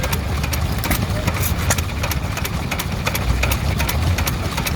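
A 1927 Jaeger 2 horsepower petrol stationary engine runs at a steam rally, giving a loud, steady, close chugging drone with regular mechanical ticks, mixed with crowd noise and distant talk.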